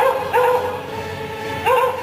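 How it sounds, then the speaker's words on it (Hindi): A dog barks and yelps amid an eerie silence in a flood-devastated Himalayan valley in Uttarakhand, two clear bark bursts rising over a murky background. "सुनाई दे रही है तो सिर्फ कुत्ते के भौंकने की आवाज।"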